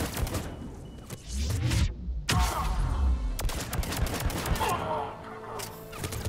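Gunfire from a low-recoil gun in Mass Effect 3 comes as a loud, dense run of rapid sustained shots with heavy booming low end, with brief gaps and a burst of impacts in the mix.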